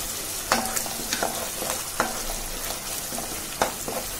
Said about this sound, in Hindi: हल्दी ऐड करेंगे आधा चम्मच, अच्छे से चलाएंगे।